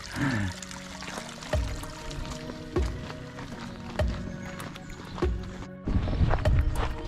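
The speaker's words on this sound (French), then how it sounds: "Ah, une cascade, une mini cascade." A small waterfall in the Gorges du Bruyant in the Vercors splashes with a steady, fairly loud rush of water, while footsteps crunch along the trail at regular intervals close by.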